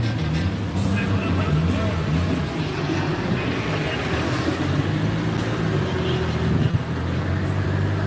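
A car runs hard on an outdoor dyno, giving a loud, continuous engine drone with steady low harmonics for several seconds, while faint voices mix into the background.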